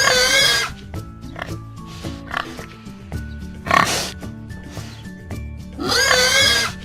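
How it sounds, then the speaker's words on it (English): A pig oinks in several short grunting bursts, loudest at the start and end, with a brief light musical background between calls. "Pig."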